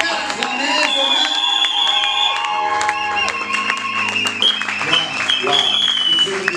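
A crowd at a church gathering applauds and cheers to welcome an apostle, steady dense clapping with shouts and whoops, music tones running underneath throughout.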